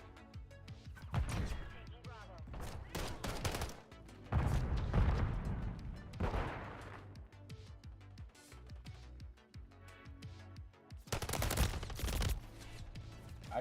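Call of Duty gunfire crackles in repeated bursts of shots, with loud clustered volleys and quieter gaps between them, alongside game sound effects.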